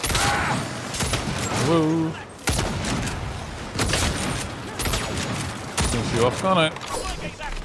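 Repeated bursts of gunfire in the video game Saints Row, several sharp shots spread across the clip under frequent excited talk from a player.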